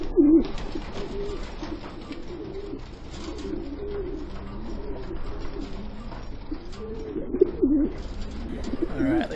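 Racing pigeons coo softly and repeatedly against a steady low background hum, the calls coming in short rounded bursts throughout.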